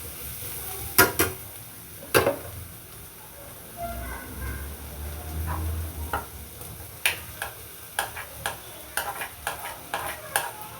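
Fried egg stir-fried with pepper in a pan for chicken fried rice: a soft continuous sizzle broken by sharp clanks and scrapes of a spatula on metal, sparse at first and then in a quicker run of strokes.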